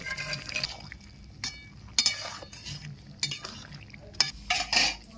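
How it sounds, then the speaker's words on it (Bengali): Fried lentil dumplings are dropped into a boiling vegetable curry in a pot, with scattered clinks of a utensil against metal and soft bubbling between them, close and fairly quiet. "ঝোল ফুটে উঠেছে, ভেজে রাখা বড়ি দিয়ে দিচ্ছি।"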